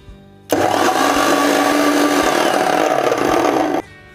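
A mixer grinder whirs loudly for about three seconds, grinding a thick puri chutney mixture with lemon juice and a little water, then stops abruptly.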